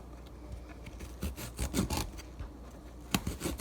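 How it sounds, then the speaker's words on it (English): Tough stems are trimmed off baby artichokes, producing quiet, close scraping and cutting scrunches in irregular bursts with a few sharper snips, faint against a low room background. "now I have to trim off all that tough stemmy stuff"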